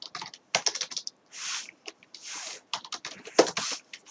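Clicky keystrokes on a computer keyboard while working in an Excel spreadsheet: quick irregular taps in bursts, with a couple of longer sliding or rubbing sounds between them, close and fairly quiet.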